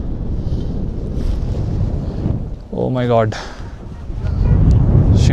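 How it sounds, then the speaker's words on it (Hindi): Strong wind buffets the microphone in a loud, continuous roar at Shingo La pass in Ladakh, with a short exclamation from a voice partway through. "बहुत तेज़ हवा चल रही है"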